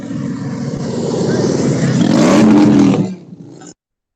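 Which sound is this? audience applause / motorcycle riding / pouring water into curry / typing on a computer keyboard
motorcycle riding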